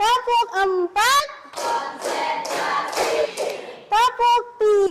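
A classroom of children plays a clapping game: a burst of rapid, fairly loud hand claps sits between stretches of the group chanting together.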